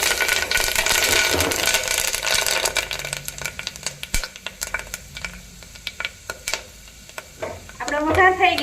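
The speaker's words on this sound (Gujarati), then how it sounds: "આપણે આ ખડા મસાલા લીધા હતા એ નાખી દઈશું, અને 8 થી 10 આપણે લીમડાના પાન નાખી દઈશું।" Whole spices and curry leaves hitting hot tempering oil for a green chickpea curry, starting with a loud crackling sizzle that settles into quieter spitting and sharp pops, with stirring clicks and a renewed burst at the end.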